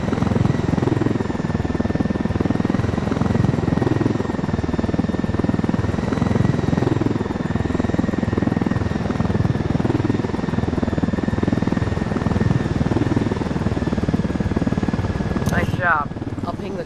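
A helicopter in the video game Ghost Recon Wildlands drones steadily with a dense, continuous rotor and engine roar, staying loud throughout until a brief sharp burst near the end; someone talks over the noise.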